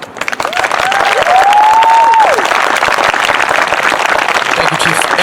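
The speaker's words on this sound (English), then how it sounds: "Everybody give the Chief a round of applause" An outdoor crowd at a justice rally in a park applauds the police chief, with dense clapping and cheering rising quickly and holding steady while a voice calls out over it.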